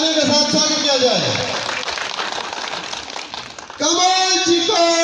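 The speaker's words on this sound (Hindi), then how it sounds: "तालियों के साथ स्वागत किया जाए" Audience applause at a Hindu gathering in Tisa welcoming guests as they are honoured with caps and shawls, a broad wash of clapping under loud crowd voices and chanting.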